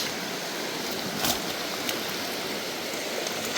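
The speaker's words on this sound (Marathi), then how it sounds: "बघा कसला पाऊस पडतोय बघ. डेंजर पाऊस पडतोय." Heavy rain pouring down in a forest, a dense, steady roar of falling water filling everything from near to far with no letup, loud and continuous with no voices.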